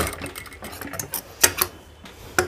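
A sewing machine stitches a pant pocket, its fast mechanical clatter running steadily up close with a few sharper clicks, alone without talk.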